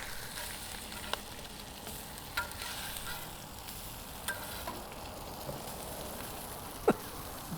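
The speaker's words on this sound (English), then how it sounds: "we should be getting a nice little sear on these already." Smoked brisket searing on a hot grill gives a steady, faint sizzle and crackle with a few small pops scattered through.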